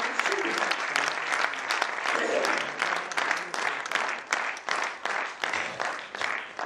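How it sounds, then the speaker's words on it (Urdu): An audience claps in tribute to activists of a long women's rights movement at a Women's Action Forum gathering, with dense sustained applause that thins into separate rhythmic bursts near the end. "ہم سب تالی بجا کے ان کو خراج تحسین دیتے ہیں جو اس لمبی تحریک کا حصہ رہے ہیں"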